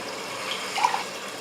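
Water pours steadily into a cooking pot of rice in a soft, continuous stream, with a few faint splashes rising near the end.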